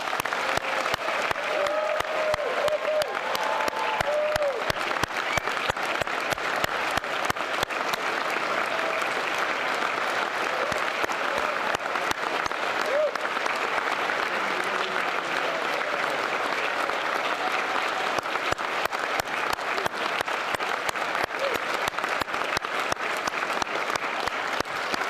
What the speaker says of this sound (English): Let's have one more applause for the unit